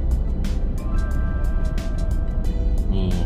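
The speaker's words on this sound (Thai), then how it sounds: "รถบรรทุกนะครับ" Heavy traffic on Rama 2 Road heading into Bangkok, with a truck passing amid a steady engine rumble and tire noise, plus occasional higher tonal whines from passing vehicles.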